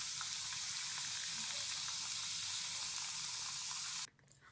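Dough fries in very hot oil with a steady, loud, close sizzle and crackle that runs unbroken for about four seconds before cutting off abruptly.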